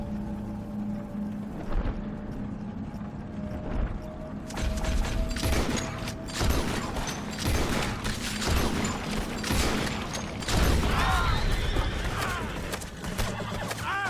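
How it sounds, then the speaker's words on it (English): Several sharp carbine rifle shots ring out in Red Dead Redemption 2, spaced irregularly across the scene and set against horse whinnies, hoofbeats and steady outdoor background noise. "I decided to set up an ambush with my carbine rifle"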